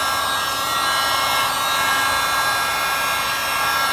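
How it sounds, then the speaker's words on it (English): A heat gun running on low blows a steady, even airy hiss while singeing the furry edges of under-bonnet insulation fibres, constant and close with no pauses or talk. "just get a heat gun and on low heat, just come in"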